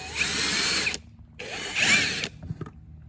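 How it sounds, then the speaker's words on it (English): A power drill whirs loudly in two bursts of about a second each while drilling a hole in a MAXTRAX recovery board, separated by a short pause, then a few faint clicks. "You just put your hand under there and hold it really tight when you drill it."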